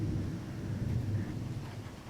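Heavy rain during a thunderstorm, a dense continuous wash of rainfall with a low rumbling undertone, steady and fairly loud, no voices.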